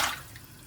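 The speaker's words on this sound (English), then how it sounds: "I'm just putting a litre of water in" Water is poured into a pan while making beef bone broth, a short splashing gush that is loudest at the start and then trails off into a quieter trickle.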